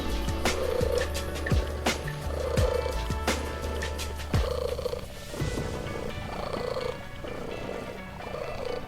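A cat purrs close up in a steady, rumbling rhythm of rising and falling breaths that runs without a break.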